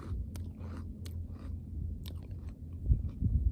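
A crunchy crouton is chewed close up, with sharp crackling bites at first and then a run of muffled, wet crunches that grows heavier toward the end, no talking.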